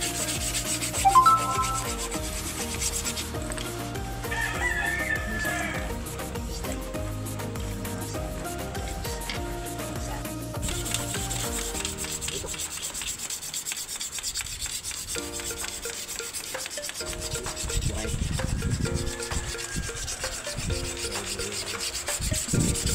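A bolo machete blade being sharpened, a continuous close rasping and rubbing of metal against a sharpening surface in repeated strokes, with no talking.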